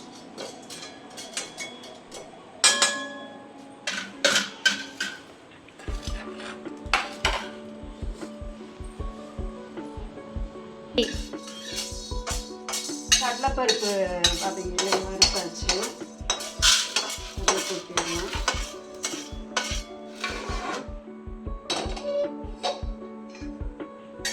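Idli podi ingredients dry roasting in a pan on medium flame, stirred with a spoon: a run of sharp scraping clicks and rattles against the metal pan, close and busy, with no talk.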